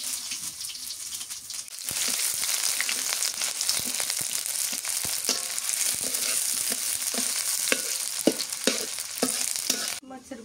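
Onions hit hot oil in a pan and break into a loud, steady sizzle with stirring scrapes, heard up close with no talking.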